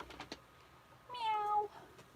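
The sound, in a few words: cat meowing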